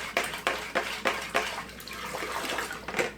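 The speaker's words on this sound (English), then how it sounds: "let's just add our filtered water in" Filtered water poured into a tea pitcher of dissolved sugar syrup for Southern sweet tea, a close splashing stream with rhythmic glugging surges, quiet and alone without talk.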